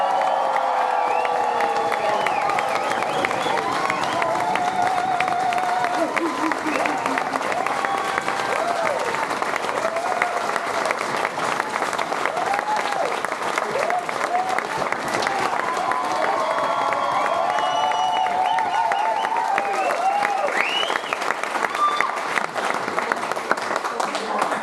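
Wedding guests at a best man's speech break into a raucous round of applause and cheering, a loud sustained wash of clapping with whoops and shouts that carries on throughout, close and enveloping.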